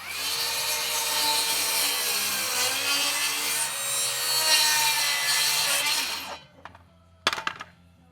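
A handsaw rasps steadily through a wooden wall plate being cut to fit a rake wall on a house framing job. The loud continuous strokes run for about six seconds, then stop, followed by a brief knock.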